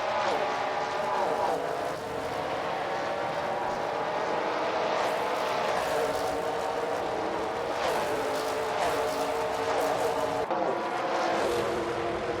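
Engines of race cars in a NASCAR video game at Dustbite Speedway, a continuous droning whine with passing swells, steady and fairly loud throughout, with a voice talking over it.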